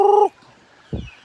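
A turkey gives a short gobble, loud and close, followed by a brief low thump after a pause.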